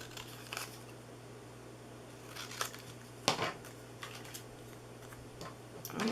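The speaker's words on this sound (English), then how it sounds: "I'm just going to cut these out by hand" Paper letters being hand-cut with scissors, close to their outlines, for a hippo treat box: quiet, intermittent snips and paper rustles scattered over a steady low hum.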